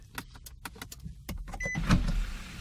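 A car motor whirs steadily after a series of faint clicks and taps, a low mechanical hum that swells briefly as the panel slides open.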